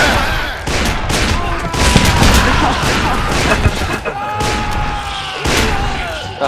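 At a Civil War reenactment, rifles fire in a ragged volley outdoors: a rapid series of loud, overlapping cracks and booms, some clustered and some spaced apart, with echoing tails between them.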